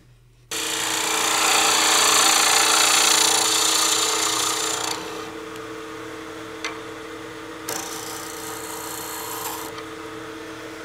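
A lathe cuts across the end of a wooden cigar case blank, starting abruptly with a loud, harsh scraping whir that eases after a few seconds into a quieter spinning hum with occasional sharp ticks.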